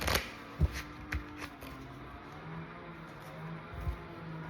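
Oracle cards are shuffled in the hands before a tarot reading, with soft, papery riffles and a few light taps and snaps, close and intermittent over a quiet background.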